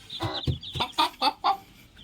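Chickens cluck in a quick run of short, sharp calls, about seven in two seconds, close by and fairly loud over a quiet background.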